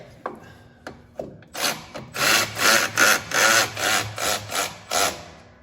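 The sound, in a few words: power ratchet tightening battery bracket on Gravely mower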